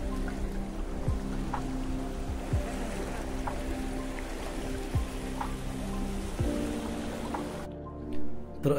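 Sea waves wash steadily onto a Konkan beach, a continuous close rush of surf and water with occasional lapping swells.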